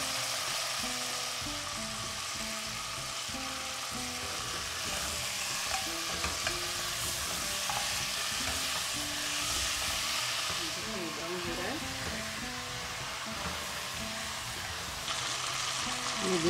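Whole spices with cardamom frying in a pot of oil for Kashmiri rogan josh, a continuous soft sizzle and hiss with faint stirring scrapes, fairly quiet and without speech.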